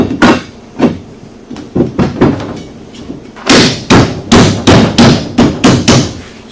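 Metal bars being knocked into place on a Seizmik rear rack: a series of loud, sharp thuds and knocks at irregular spacing, then a quicker run of closely spaced blows near the end.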